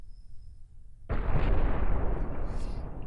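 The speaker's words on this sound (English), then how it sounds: "I'm gonna focus fire, and the missiles will aim towards it" In the space game Cosmoteer, missiles and cannons pound an enemy reactor: a sudden heavy roar of sustained firing and impacts starts after a quiet moment and keeps rumbling loudly.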